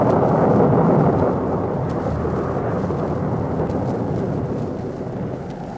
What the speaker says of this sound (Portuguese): súbita tempestade desabou sobre o Rio de Janeiro